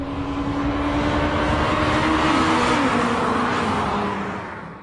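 Honda Civic EK9 Type R with a B16B engine accelerating hard, a loud sustained engine whine rising in pitch, a gear change about midway, then climbing again before easing off, no voices.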